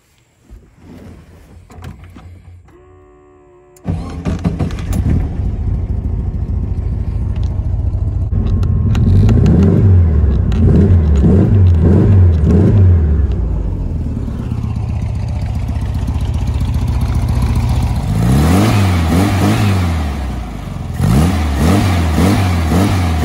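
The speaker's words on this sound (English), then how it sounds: "So I'll fire it up and let you hear the crispness of that throttle response." An engine with two synchronized throttle rods is started after some handling clatter, then idles and revs in several quick throttle blips that rise and fall, loud and close, with a final pair of revs near the end.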